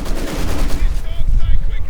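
Bursts of MG42 machine gun fire from German grenadiers in Company of Heroes 2, crackling in rapid repeated volleys amid dense battle noise against a Soviet advance, with no voices.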